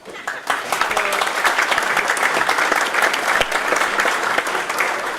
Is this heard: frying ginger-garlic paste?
no